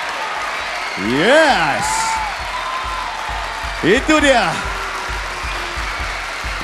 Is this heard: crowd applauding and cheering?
yes